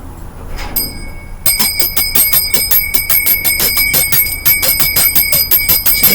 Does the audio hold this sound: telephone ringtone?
no